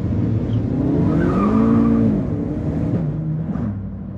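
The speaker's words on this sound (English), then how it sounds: "Whoa, burnout." A budget Jetta quarter-mile project car with unknown suspension, brakes and transmission and a damaged engine does a burnout. The engine revs loudly and close by while the tires squeal and skid, then the noise eases toward the end.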